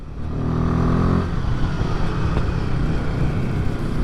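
A Royal Enfield Himalayan 450 motorcycle engine held at high revs, a loud steady drone that eases off after about a second into a rougher, lower running sound with mechanical clatter.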